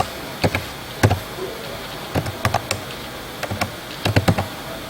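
Keys clack on a computer keyboard in uneven bursts of close, crisp taps, some in quick clusters, against a quiet room.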